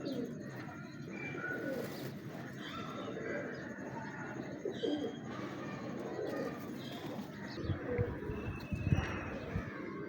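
A pigeon coos softly and repeatedly at close range over a faint background, with light shuffling and a few thumps near the end.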